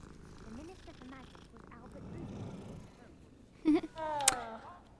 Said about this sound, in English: oh, there's a little kitty cat.